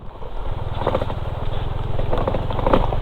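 A loud, noisy motorcycle engine chugs in a rapid, steady rhythmic pulse close to the listener, with faint voices underneath.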